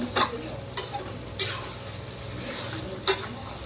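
Mutton stirred with curd in a brass kadai, with a steady sizzle and a few sharp scrapes and clinks as the spoon strikes the pan, fairly quiet and close, with no talking.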